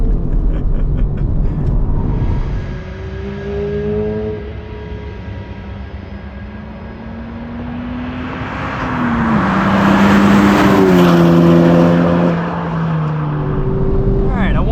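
A 2023 Honda Civic Type R lapping a race track, heard from inside as the engine drones, rises and falls through gear changes and surges louder toward the end, with a voice speaking over it.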